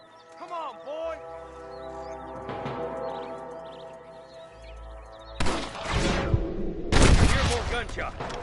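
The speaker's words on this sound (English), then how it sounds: "Gunshot." Gunfire in the Western video game Red Dead Redemption on PS5, a sustained burst of shots and booming bangs growing louder toward the end over a low droning game score.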